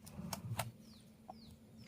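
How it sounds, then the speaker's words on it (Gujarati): Chickens, roosters and hens clucking on a farm near hills, a few short clucks and a faint chirp over steady low outdoor rumble, with no talking. "આ કુકડા મરઘા જો એ બાજુમાં મરઘા"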